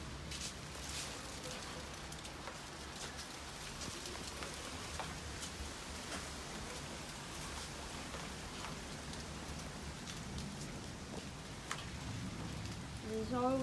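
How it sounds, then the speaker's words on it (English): Heavy rain pours steadily, a dense unbroken hiss of drops close by, loud and constant with no voices. "My god, it is pouring!"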